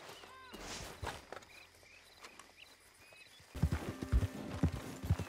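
Horse hooves in the video game Red Dead Redemption 2 clip-clop in a steady walking rhythm, growing louder and closer partway through, with faint outdoor ambience and a few light chirps.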